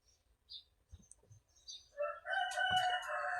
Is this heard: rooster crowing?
yes